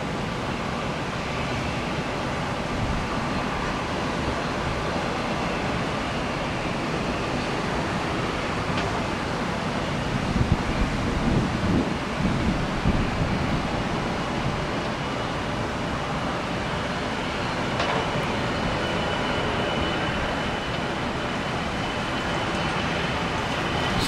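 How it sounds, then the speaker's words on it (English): Continuous broadband roar of storm wind outdoors at a park near an airport, steady and fairly loud, with a few heavier gusts midway and no voices. "Sounds like the storm out there in the Gulf on the other side."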